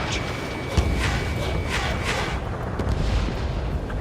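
Missile launch and blast from the Ace Combat 7: Skies Unknown jet combat game, heard as a sustained loud roaring rush with a sharp thump early on and rumbling bursts following.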